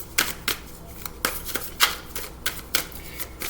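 Tarot cards are shuffled by hand, close up, in a steady series of crisp riffling bursts spaced roughly every half second.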